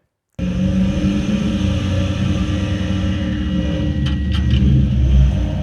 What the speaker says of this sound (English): And I got V8 rear wheel drive. And this would be a perfect time for a dirty burnout.